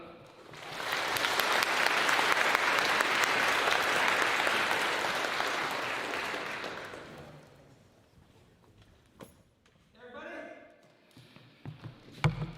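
Loud, sustained applause from an auditorium audience at a university faculty welcome event, holding steady for about six seconds before fading out, followed by a few scattered claps and faint stray noises.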